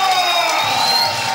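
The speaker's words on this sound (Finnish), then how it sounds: "Yleisö riehaantuu täällä Helsingin sirkuksessa." A wrestling crowd at a circus venue in Helsinki roars and whoops wildly, a dense, loud, sustained wall of cheering and shouting that fills the hall.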